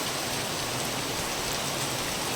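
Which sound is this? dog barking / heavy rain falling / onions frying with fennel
heavy rain falling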